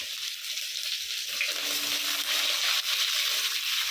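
Chopped onion hits hot oil with garlic paste, bay leaves and spices in a pan, a steady broad sizzle that holds loud and continuous, alone without talk.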